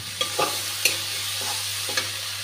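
Spice mix and ginger paste frying in a pan, with several soft stirring scrapes over a low steady sizzle, close and fairly quiet.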